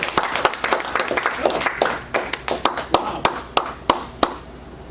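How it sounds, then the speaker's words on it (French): Hands clap in a steady run of sharp, bright claps that start mixed with a crowd's applause and thin into distinct, evenly spaced claps toward the end, with a brief exclamation from a voice. "Can you clap hands?"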